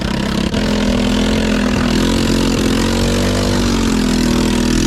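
A two-wheel-drive four-wheeler ATV, a $400 project machine running again, holds a loud, steady engine drone throughout with slight shifts in pitch as it rides, close and alone without talk.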